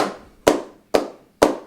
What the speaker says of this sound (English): You'll be hearing me clap a lot.